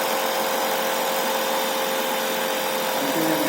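A shunt DC generator runs with a steady whirring motor hum and a constant high-pitched whine, loud and even throughout the short stretch.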